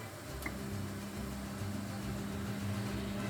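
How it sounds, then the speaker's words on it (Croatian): Kitchen range hood extractor fan running over a stove while butter and sugar melt in water, a steady low mechanical hum with a faint tonal whine, alone and fairly quiet. "sad ću da uključim aspirator"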